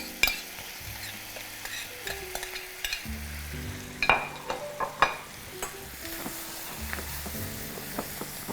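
Chili and garlic butter sizzles steadily in a pan for a fish dish, with a soft constant crackle broken by occasional sharp clinks and scrapes of a utensil stirring against the metal.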